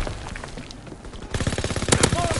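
Rapid automatic gunfire from a video game gun starts partway through as a fast rattling burst, loud and near, over a busy game background.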